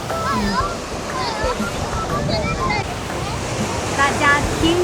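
Sea waves wash steadily onto the windy shore at Kamakura, Japan, a continuous surf roar with wind noise, while voices talk over it throughout.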